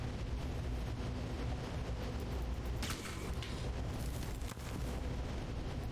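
Gunfire and explosive bursts in Alpha Protocol, loud booming shots over a continuous rumbling din, with a sharp blast partway through and another near the end.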